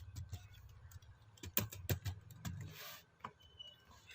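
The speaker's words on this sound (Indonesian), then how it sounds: "tahap kedua yaitu mengetik configure," Someone types a command on a computer keyboard, a run of quick, close, quiet key taps with a few louder strikes near the middle, and no voices.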